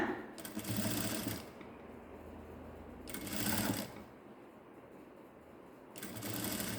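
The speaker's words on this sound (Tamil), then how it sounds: "இப்படியே நிறுத்தி நிறுத்தி தைங்க புதுசாக தைக்கிறவங்க" A sewing machine stitches a blouse in short stop-start runs, three bursts of rapid mechanical whirring separated by brief pauses, close and clear.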